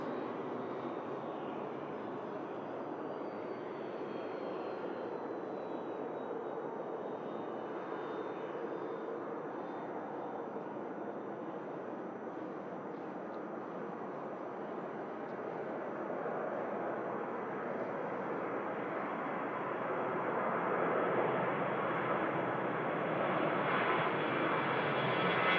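A Jet2 Boeing 757 airliner taxis at Manchester Airport, its jet engines giving a steady, fairly distant roar with a faint whine, growing gradually louder toward the end.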